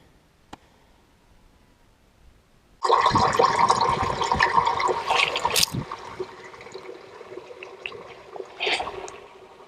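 Water pours loudly through a small drainage hole in a rocky setting at the Carn Goedog bluestone outcrop, a sudden steady rushing gush that begins after a quiet start and keeps churning with gurgling surges.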